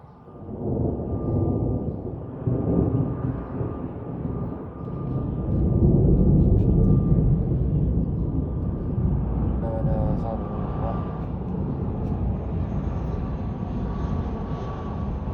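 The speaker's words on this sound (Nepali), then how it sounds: "साथमा प्लेनहरू पनि उडाएका उडिरहेको छ" Airplanes passing overhead under rainy, overcast skies, a low broad engine rumble that swells and holds, with people talking over it.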